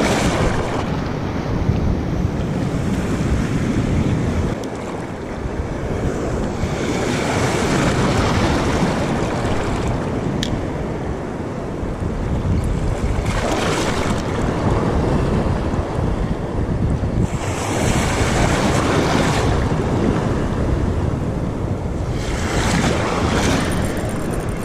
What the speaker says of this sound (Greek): Τα κύματα σκάνε πάνω μου.